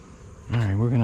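A close, droning buzz of honeybees around a Layens hive during a fall inspection rises halfway through and holds steady, loud and humming, over faint background noise.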